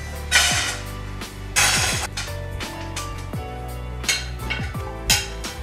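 Dishes, pots and pans clatter and clink as they are handled in a home kitchen, with four or five loud bursts of ringing contact and lighter rattles between them, close by with no talking.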